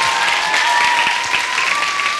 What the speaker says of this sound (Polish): to brawa dla babci